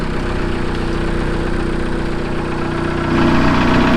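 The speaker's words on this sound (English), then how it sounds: "Gentlemen, start your engines." Jeep engines, a rotary and a diesel, running loud and steady at idle close by, with a second engine joining and raising the level near the end.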